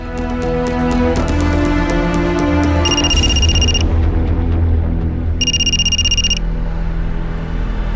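A telephone rings for an incoming call in two electronic trilling bursts, loud and close, over a dense musical background score.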